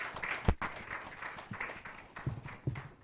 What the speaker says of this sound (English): a big round of applause for your thoughts